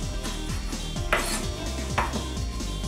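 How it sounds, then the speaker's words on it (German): Knife quartering tomatoes on a cutting board while making ratatouille, with soft repeated chopping taps and light clatters of kitchen utensils, close and steady, two sharper knocks standing out, no talking. "Tomaten sind das einfachste eigentlich. Einfach so vierteln,"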